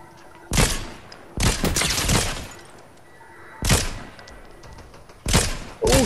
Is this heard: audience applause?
no